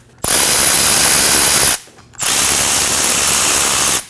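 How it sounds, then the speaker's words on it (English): A ratchet with a 14mm socket spins off the brake caliper pin bolts on a 2017-2024 Nissan Armada rear brake, in two loud, steady buzzing bursts of rapid clicking separated by a short pause. "Using a 14mm socket, we're gonna go ahead and remove both of the caliper pin bolts."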